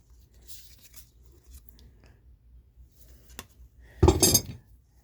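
Antique 3/8-inch blacksmith bolt tongs are handled in a quiet room, giving a few soft taps early on and then one brief burst of bright metallic clinking near the end.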